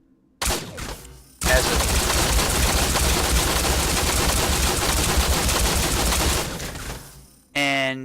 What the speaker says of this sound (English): the Gatling laser fires like